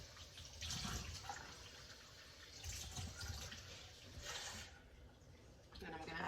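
Water poured into a blender jar of sofrito ingredients during home cooking, a soft running splash that swells and fades in a few bursts, close and fairly quiet.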